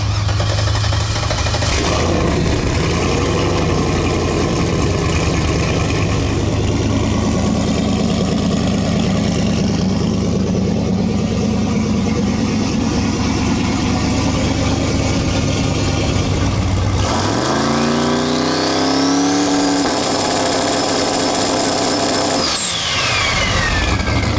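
A race car engine at LS Fest idles with a steady low drone for a long stretch, then revs up sharply in a rising sweep before settling, loud and close throughout.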